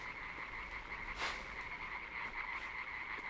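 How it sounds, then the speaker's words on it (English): Frogs croak in the dark platform game Limbo, a steady chorus of layered, buzzy calls with one louder croak near the middle, heard alone at moderate volume. "I hear frogs."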